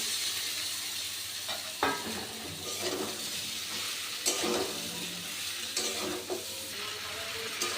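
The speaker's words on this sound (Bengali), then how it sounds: "এবার ভেজে রাখা আলু আর ইচোর মশলার সাথে ভালো করে কষিয়ে নেব" Jackfruit and fried potatoes stir-fried with spice paste in a pan, a steady close sizzle with irregular scraping strokes of a spatula against the pan, no talk.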